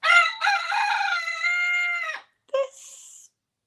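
A rooster crows loudly just outside a door, one long drawn-out crow followed by a short second call, close and clear against a quiet background.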